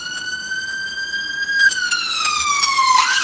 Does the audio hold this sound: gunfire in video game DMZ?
no